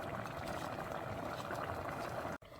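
Chana masala curry simmering in a pot, a soft continuous bubbling and sputtering heard close up and fairly quiet, with a brief cut near the end.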